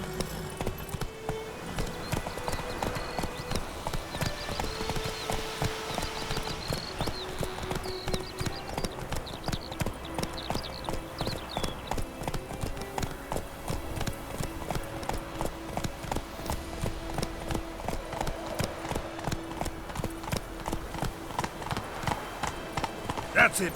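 Horse hooves clip-clop steadily and rhythmically on a path in The Witcher 3 video game, a continuous walking gait heard under game music and occasional character dialogue throughout.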